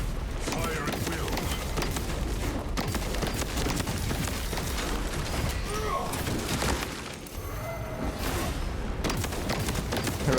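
Full-auto Heavy Plasma Incinerator firing in a sci-fi shooter video game, a dense, unbroken roar of rapid plasma bursts and crackling impacts, loud and sustained throughout, with voices talking over the barrage.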